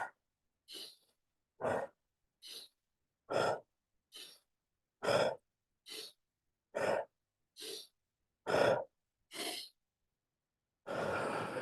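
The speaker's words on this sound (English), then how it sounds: "start breathing quicker. Out through the mouth, in through the nose." Deep, quick rhythmic breathing during a guided breathwork session, about a dozen evenly spaced breaths close to the microphone, then a longer, steady exhale.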